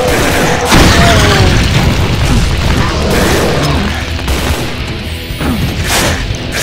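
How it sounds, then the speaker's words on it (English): A tree detonated in Brutal Doom 2 goes up in a loud, booming blast with crashing debris, followed by continuing rumbles and pops of fire and destruction, dense and close throughout. "Holy crap, we actually detonated the tree."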